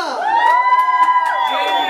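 A birthday party crowd with a youth mariachi band on hand cheers and whoops together in a sustained, rising roar of voices, loud and close throughout.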